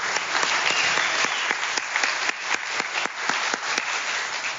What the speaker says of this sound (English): can you give God a round of applause?